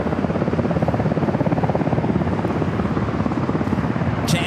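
American Airlines Boeing 737-800 jet on runway 27 at San Diego airport, a loud, steady broadband engine roar that holds throughout, with no talk.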